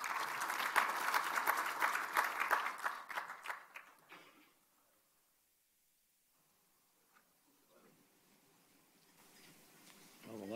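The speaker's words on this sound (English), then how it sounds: "please welcome him with a big round of applause" Applause from a conference audience fills the first few seconds, a dense patter of many hands that fades out into near silence, followed by faint scattered sounds.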